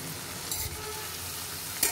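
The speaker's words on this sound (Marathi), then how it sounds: "मेथी थोडंसं आपलं सारखं करायचं" A fenugreek leaf and ground spice paste mixture stirred in a pan on the stove, soft scraping strokes over a faint sizzle, with a sharper scrape near the end.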